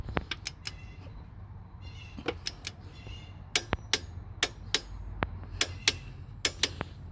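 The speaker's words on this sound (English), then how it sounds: "When you hear the click, it's torqued down." A torque wrench set to 33 tightens a fitting during PCV valve replacement on a 2009-2014 Acura TSX. Sharp, close clicks and ratcheting creaks repeat in an uneven rhythm over a quiet background, with no voices.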